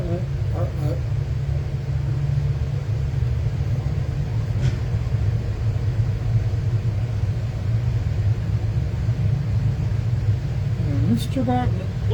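Modified race cars circle an oval dirt track, heard as a steady distant engine roar and rumble that drones throughout, with an announcer calling the race over the top.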